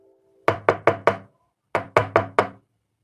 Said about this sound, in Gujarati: અત્યારે કોણ દરવાજો ઠપકારે છે કોણ આવ્યું છે